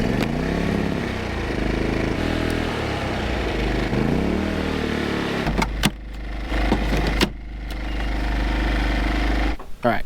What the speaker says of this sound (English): you can probably hear the generator going in the background